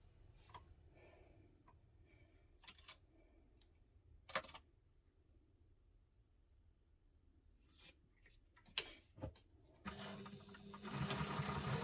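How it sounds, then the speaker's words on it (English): Fabric for a messenger diaper bag is stitched on a sewing machine: a few quiet, scattered clicks and taps, then the machine's motor hums and whirs steadily for the last couple of seconds, up close and without speech. "Now we're going to need to sew this together using the seam allowance stated in the pattern."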